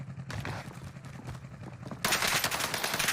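Gunfire and battle noise in Call of Duty: Warzone, a dense loud stretch of shots and explosive bursts that swells into a brighter, harsher roar halfway through, with no voices.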